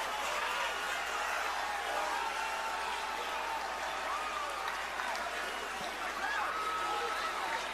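A WWE arena crowd claps in a dense, continuous roar of applause that fills the space evenly, with scattered cheers mixed into the wash of hands.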